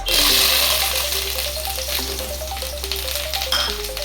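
Curry leaves hit hot oil in a pan with a loud, bright crackling sizzle that bursts at first and then settles into steady spitting, close up, under a low constant hum.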